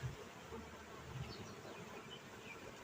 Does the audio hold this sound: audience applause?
no